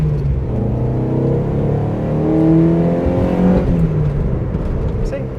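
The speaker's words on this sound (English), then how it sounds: "And here's an example of the exhaust for you." Steady in-cabin exhaust drone from a 1995 Mazda MX-5 NA, a low rumble with harmonic tones rising and falling as the revs change, loud and continuous for several seconds.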